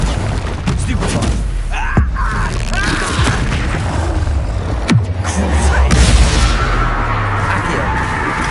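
Confringo explosive spell blasts from the Hogwarts Legacy game, heavy booms and sharp cracks scattered through busy combat sounds, one punchy hit near the middle, with voices speaking briefly.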